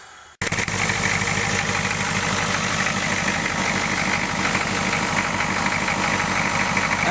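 A Ford 6.9 diesel engine fitted with a 3G alternator cranks and catches almost at once, then settles into a loud, steady clattering idle with a deep rhythmic knock that runs to the end.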